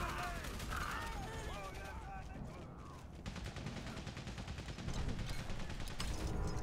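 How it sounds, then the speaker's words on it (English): Dense, rapid machine-gun fire from a World War I battle in Valiant Hearts, continuous and loud throughout with scattered bursts and booms, mixed with voices and game sounds. "My God, the machine guns. There's just so many."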